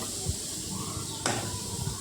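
Beetroot sizzles in a frying pan with sugar just added, making a soft, continuous hiss with a brief sharper scrape partway through. The sound is close and fairly quiet.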